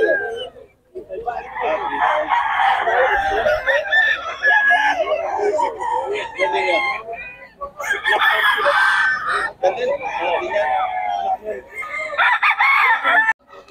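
Roosters crow repeatedly in long, harmonic calls, several overlapping, loud and close, with a few clucks between.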